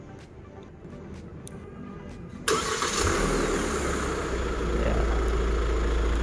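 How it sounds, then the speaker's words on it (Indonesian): A 2022 Hyundai Staria seven-seater is started by remote key fob: a quiet wait, then the engine abruptly catches and settles into a steady low idle, heard close by, with one brief spoken word beforehand. "Hyundai Staria 7 seater 2022 dilengkapi dengan remote engine start seperti ini."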